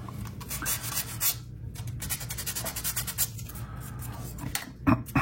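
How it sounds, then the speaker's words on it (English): Light hand sanding along the edges of a small part to remove leftover nubs, a close raspy rubbing in uneven back-and-forth strokes with brief pauses. "just lightly sand the edges where those nubs are"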